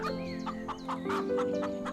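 Several chickens cluck and squawk close by in short repeated bursts, with no talking.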